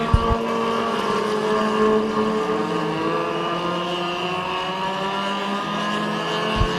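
Race cars roaring around Midvale Speedway on the final lap, several engines blending into a loud sustained whine that rises and falls as the cars pass. Nobody talks.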